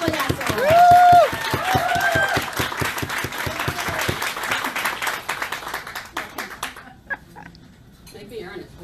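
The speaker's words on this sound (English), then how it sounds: "Please help me present to you a big round of applause" An audience at a keynote speech claps in sustained applause with a high whistle and some whoops early on, then the clapping thins out and fades.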